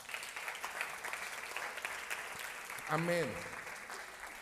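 A church congregation claps together, a continuous patter of many hands with a voice calling out over it near the end as the applause swells briefly.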